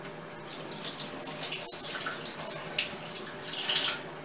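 Cold tap water running into a kitchen sink, a steady close hiss and splash lasting the whole clip with slight swells near the end.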